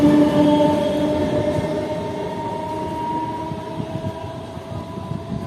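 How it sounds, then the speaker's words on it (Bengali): A MEMU passenger rake on the Katwa–Rampurhat line rolls past with a loud rumble and a steady electric hum, fading gradually as the train moves away. "মেমু রেক চলে গেল ট্রেন।"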